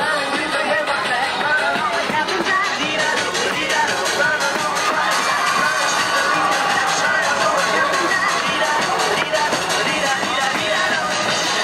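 A crowd at a street performance makes dense, continuous noise of cheering and babble, steady and fairly loud throughout with no single voice standing out.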